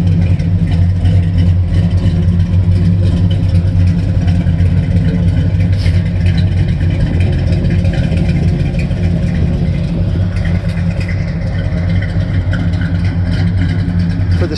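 A 1967 El Camino engine rumbles loudly and steadily through a 2.5-inch pipe and Flowmaster exhaust with a deep, throaty note, holding a continuous idle-like drone with slight swells throughout.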